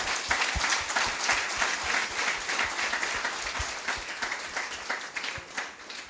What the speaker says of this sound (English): Let's give Butsia a big round of applause.